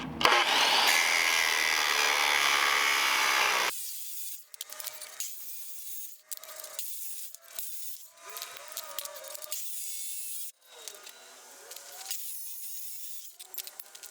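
An abrasive cutoff blade, worn down, cuts through steel workpiece raised on a 2x4: a loud, steady grinding roar for several seconds, then stops, followed by intermittent shorter scraping bursts and handling noises.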